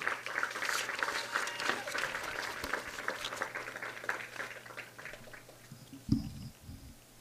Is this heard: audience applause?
yes